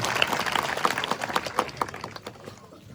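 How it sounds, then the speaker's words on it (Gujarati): Applause for two sisters at a farmers' rally in Gujarat, a dense crowd clapping steadily with scattered sharp claps that thin out and fade toward the end. "ફરી એક વખત બંને બહેનો માટે ખૂબ ખૂબ તાળીઓથી બહેનોને વધાવીએ."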